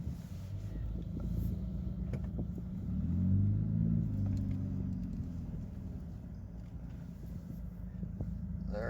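Steady low road rumble and engine drone fill the inside of a moving car, an even continuous hum with a slight swell midway and no talking.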